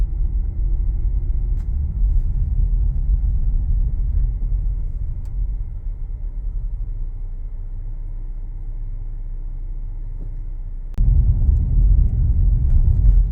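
A car drives out of Lake Sumter Landing in The Villages, Florida, giving a steady, fairly loud low road rumble and engine drone throughout, easing slightly in the middle and swelling again near the end, with no talking.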